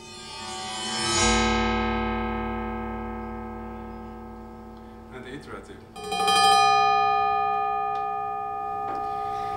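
Demonstration of three sound types: a single struck bell-like impulse with a long ringing decay, followed by a rapid rattling iterative burst and then a sustained tonal sound, with no talking.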